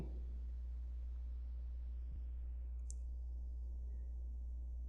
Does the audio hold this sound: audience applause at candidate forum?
no